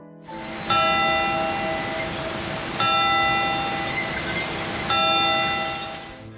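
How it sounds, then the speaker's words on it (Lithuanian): An old clock tower bell in Plunge, Lithuania, strikes three times at even, slow intervals, each ringing stroke clear and fairly near and left to fade into the next, with no talking. "Senoji laikrodinė pasveikino mus išdidžiais varpo dūžiais."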